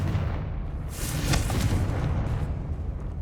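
Fiery Confringo spell blast in Hogwarts Legacy, a rumbling boom that swells around the middle of the clip over a steady low roar, loud and close with no talking.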